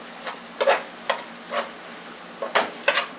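A spoon stirring and scraping beef bowl ingredients with broth in a pan, in short bursts of about half a second, some paired, with a faint sizzle between them.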